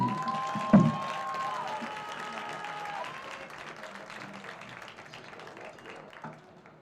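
A crowd applauds at a college field hockey game honoring a senior, clapping and light cheering spread wide and fading gradually, with a brief loud bump early on and a sustained tonal hum underneath.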